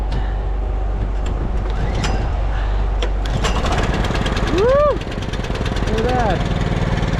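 A tractor engine turns over and settles into a steady, loud, close idle, with a rough low rumble throughout and someone talking briefly over it.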